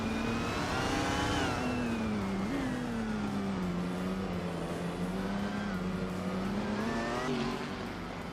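Race cars in a GTE-class racing video game, led by a 2019 BMW M8 GTE at the Baskerville start, roar continuously with a rising then steady engine drone and gear-shift pitch changes, loud and close throughout.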